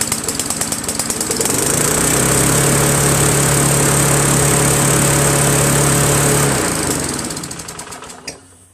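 Tecumseh engine on a Snapper Craftsman lawn mower revving hard at high RPM after coming off choke, a loud buzzing roar with a sustained whine that winds down and sputters near the end.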